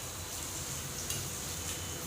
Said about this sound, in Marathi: लसूण व्यवस्थित फ्राय झाला आहे.